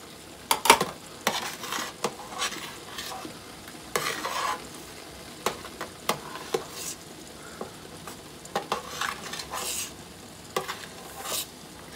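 A spoon stirs homemade garden-tomato pasta sauce in a pot, giving irregular soft scrapes and light knocks against the metal over a faint bubbling simmer, with no voices.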